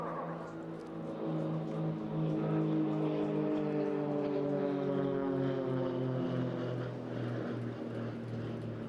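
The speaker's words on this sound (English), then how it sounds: "a pair of really superb little aerobatic aircraft, extra NGs" A pair of Extra NG aerobatic propeller aircraft flying a display at a seaside airshow, their engine drone steady and loud throughout, with the pitch sliding gradually lower as they pass.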